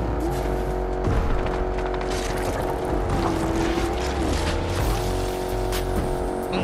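A car driven in Fortnite Chapter 4 Season 4, with a steady engine drone and a rising and falling tonal whine that shifts during a drift. Game effects sit around it, and no one speaks.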